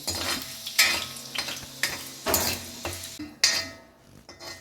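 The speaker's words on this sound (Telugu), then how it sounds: "కరివేపాకులో తడంతా పోయేదాకా వేసుకోవాలి" Curry leaves fry in a pan for gongura karam, a crackling sizzle punctuated by repeated metallic scrapes and clinks of a ladle stirring against the pan.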